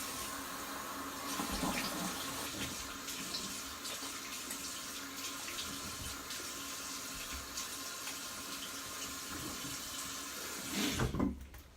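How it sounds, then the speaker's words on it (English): A razor is rinsed under a running bathroom tap, making a steady, soft splashing stream of water that runs for about eleven seconds before a brief louder clatter and the flow cutting off. "I'm just gonna rinse."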